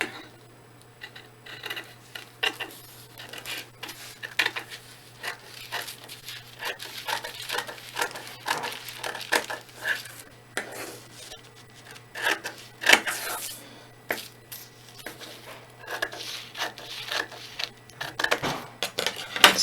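Scissors cutting through folded interfacing fabric, with repeated crisp snips and rustling of the material at an irregular rhythm, close and fairly quiet over a faint steady hum.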